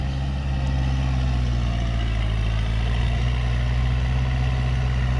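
A Kubota L47 tractor runs in a rice paddy while tilling in high gear, its engine holding a steady, loud, low throbbing hum close by with no letup.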